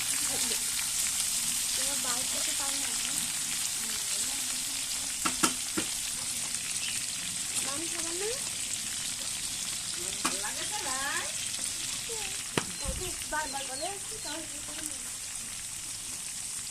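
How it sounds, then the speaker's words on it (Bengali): Desi chicken meat frying in a pan, a steady, dense hiss of sizzling oil throughout with occasional stirring clinks and a few faint voices in the background. "এই জন্য আমরা একটু কড়া করে ভাজবো, দেন তারপরে রান্না করব"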